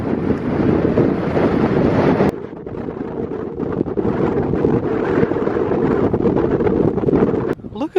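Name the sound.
strong wind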